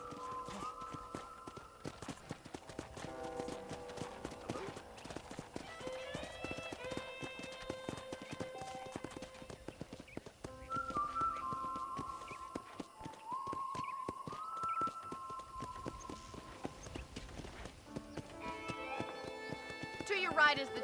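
Horse hooves clip-clop steadily through a ranch in the Red Dead Redemption video game, running under game music and a voice.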